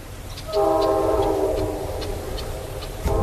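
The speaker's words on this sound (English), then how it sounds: "there you can hear the train on shore going by." A train running along the shoreline sounds a long, steady horn blast from a moderate distance over a low rumble, with faint ticking in the background.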